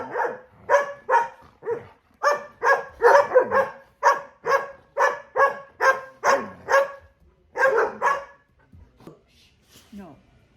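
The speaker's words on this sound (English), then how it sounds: "Is that enough of your barking now?" A goldendoodle barks repeatedly in a steady series of sharp, close barks, about a dozen in quick succession, then trails off into softer whines and grumbles at the end.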